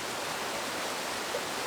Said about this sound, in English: in the foreground I've got this waterfall